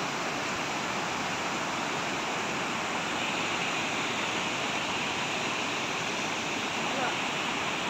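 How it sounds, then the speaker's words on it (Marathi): The Dhareshwar waterfall at Marleshwar in the Konkan drops 200 feet in the monsoon, producing a dense, unbroken roar of falling water that holds steady and loud throughout. "या स्थानाचे आकर्षक म्हणजे 200 फूट उंचीवरून पडणारा हा धारेश्वर धबधबा"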